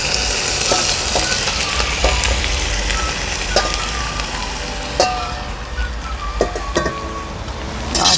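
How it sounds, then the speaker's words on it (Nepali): Local chicken meat frying on browned onions in a pan while being stirred: loud continuous sizzling close by, punctuated by repeated sharp clicks and scrapes from the stirring utensil, with no talk. "अब मासुमा चाहिँ हामीले यो मासुको कलर चेन्ज नहुने हालसम्म चाहिँ केही पनि नराखिकन यसलाई भुटिरहनुपर्छ हामीले।"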